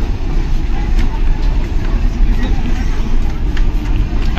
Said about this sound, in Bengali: আমাদের ট্রেন এই মালদা ঢুকে গেল